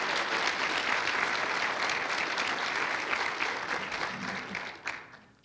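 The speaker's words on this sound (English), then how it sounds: "Another round of applause for our students." A college audience claps for students in a sustained round of applause that holds steady and then tapers off and fades out in the final second.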